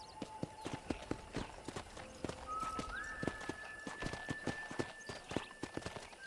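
Horse hooves clip-clop at a steady walking pace in the Red Dead Redemption western game, evenly spaced crisp clops with a soft whinny and a sustained musical tone drifting behind.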